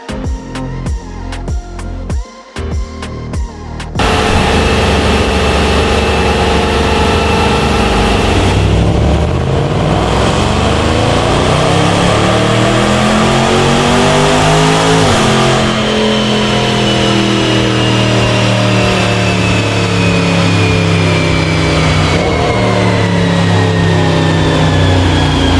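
A remapped Jaguar F-Pace SVR with an upgraded 200-cell catalytic converter runs strapped to a dyno. A few short blips of the throttle give way to a long, loud, sustained run as the revs climb and fall, with no voices.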